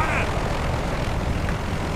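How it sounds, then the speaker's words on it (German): An enemy helicopter in the Battlefield Bad Company 2 war game roars overhead as a loud, dense engine and rotor wash that fills the whole moment, with game voices mixed in underneath. "Feindliche Helikopter!"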